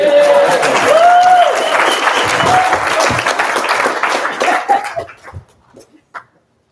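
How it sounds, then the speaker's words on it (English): Loud applause from the mourners at a memorial for Beth Plowman and Peter Bonesteel, dense and sustained with a few whoops, then thinning into scattered claps and fading out near the end. "we can give her a loud round of applause"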